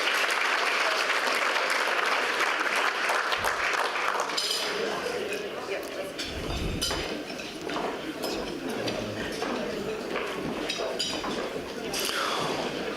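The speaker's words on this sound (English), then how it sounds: "Round of applause once again, ladies and gentlemen, to our 17 and under Netball Victoria Association State Champions" An audience claps for a 17-and-under netball state champion team at a football-netball league awards night, sustained loud applause filling the room with scattered sharper claps.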